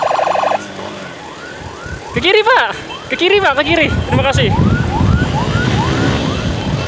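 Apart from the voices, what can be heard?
ambulance siren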